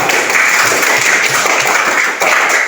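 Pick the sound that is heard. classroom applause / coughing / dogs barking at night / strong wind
classroom applause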